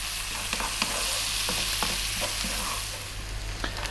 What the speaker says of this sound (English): So make sure that you cook your onions till they brown slightly.